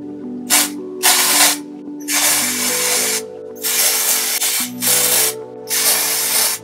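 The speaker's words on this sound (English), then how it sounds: "This is actually the TONI&GUY volume dry shampoo" Several hissing bursts of TONI&GUY volume dry shampoo sprayed onto hair, about six short blasts in an uneven rhythm, close and clear, with faint clicks from the can between sprays.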